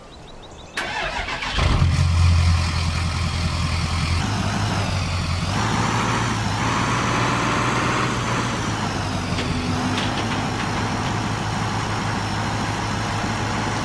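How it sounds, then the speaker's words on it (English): Truck in Farming Simulator 2015 starting up and driving off-road across a field, a loud steady engine drone with shifting revs and a strained, labouring tone, continuous throughout without speech. "So this truck's struggling right now, but it should be fine."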